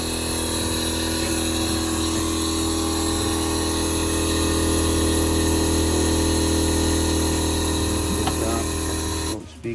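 Airlift air suspension compressors running inside a Nissan S15 Silvia, a loud, steady mechanical whine and hum with a constant buzzing drone that holds for several seconds before cutting off abruptly at the end.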